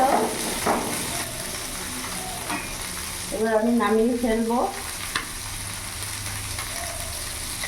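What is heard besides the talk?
frying fish in a pan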